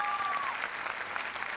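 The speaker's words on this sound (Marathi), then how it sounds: "याच्या बाईसाठी जोरदार एकदा टाळ्या झाल्या पाहिजे" Studio audience at a Marathi comedy show applauding, a brief spell of dense clapping with a faint whistle-like tone at the start, moderately loud.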